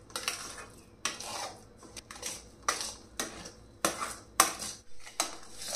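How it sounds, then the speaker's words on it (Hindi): A steel spoon scrapes and clinks against a pan as a milk mixture for coconut laddoos is stirred over low flame, in a steady series of sharp metallic strokes about once a second, close and clear with no talking. "तो स्टील का चम्मच ले लेते हैं। तो अभी हम इनको लगातार लो फ्लेम पे चलाते रहेंगे"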